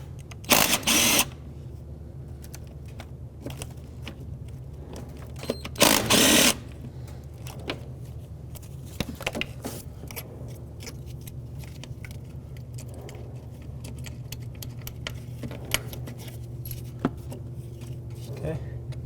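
Ratchet work on the fuel rail bolts of a Toyota 4Runner engine, with a few short loud clattering bursts over a steady low hum and occasional faint clicks and tool handling.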